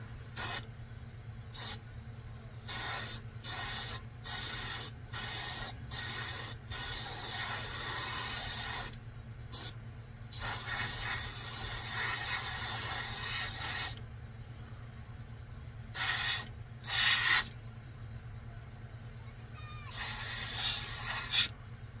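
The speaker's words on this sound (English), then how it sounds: "make sure my gun is adjusted properly. This is it. This is our top coat." A spray gun lays Imron top coat onto a 1/25 scale 1971 4x4 model, hissing in a series of short, close bursts and then longer sustained passes over a low steady hum.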